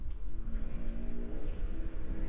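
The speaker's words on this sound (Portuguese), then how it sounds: "Pelo jeito faz barulho de moto." Motorcycle-like engine drone in Totally Accurate Battle Simulator, a steady, loud, low rumble that holds without pause for the whole stretch, with faint higher clicks near the start.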